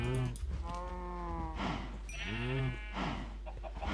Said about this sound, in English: Might as well breed our sheep while we're at it.